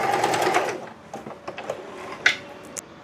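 A Usha electric sewing machine stitches in a fast, steady whirring run at the start, then slows into a few separate clicks and taps of the mechanism, close and clear.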